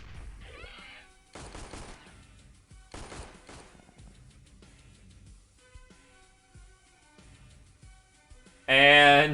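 In the XPiratez video game, bursts of rapid gunfire ring out in short volleys, then a loud grenade blast closes the sequence, with a voice briefly heard between the shots.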